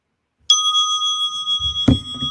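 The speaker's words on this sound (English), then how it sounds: "allow the vibration of that bell to wake up and pull you deeper inside" A meditation bell is struck once after a short silence, leaving a clear, pure ringing tone that sustains and shimmers, followed by a soft knock and low thuds near the end.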